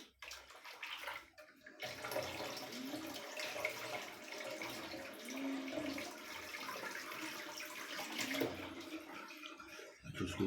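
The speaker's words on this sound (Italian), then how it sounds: "Faccio scorrere un po' d'acqua per" Water runs from a tap, to warm it, in a domestic bathroom, a soft continuous splashing stream with a few brief pauses and shifts in flow, fairly faint and with no talking.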